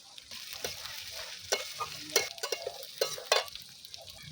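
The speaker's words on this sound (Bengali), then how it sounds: "দেখুন বন্ধুরা, মশলাটা কিন্তু ভালো করেই আমি কষিয়ে নিয়েছি" Masala with chili powder fries in a pan while being stirred for chicken dopiaza, a soft, steady sizzle broken by scraping strokes of the spoon, close by and fairly quiet, with no voices.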